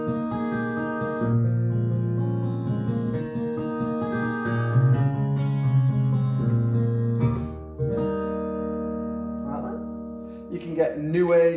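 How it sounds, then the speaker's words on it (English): A Kawai CA901 digital piano set to an acoustic guitar voice plays sustained plucked-string chords and melody lines, close and clear, with a brief flurry of notes at the close. "maybe an acoustic guitar sound"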